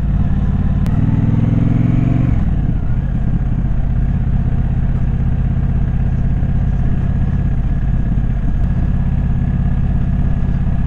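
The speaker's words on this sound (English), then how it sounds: "I love the burbles on this bike" A motorcycle engine burbles close by, a deep uneven rumble that steadies into a continuous idle-like throb for the whole stretch, with a brief rise in revs near the start and no talking.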